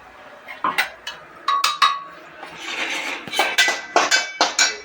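A spoon clinks repeatedly against a metal pot while spices temper in hot oil, hissing and sizzling softly between the sharp taps.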